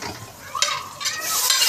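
Whole moong dal roasting in a pan, stirred by hand: a few close, dry scraping swishes at irregular intervals over a quiet background, with no talking.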